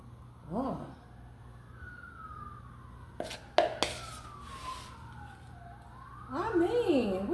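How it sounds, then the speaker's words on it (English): An emergency vehicle siren wails outside in slow, falling and rising sweeps during indoor cake icing, moderately faint, with brief talk and a few sharp knocks nearby. "we just hearing these sirens won't stop, will they?"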